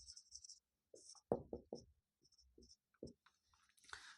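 A pen or marker scratches faintly on a board in short, separate strokes with quiet pauses between them, as a word is written for a class 10 triangle geometry proof.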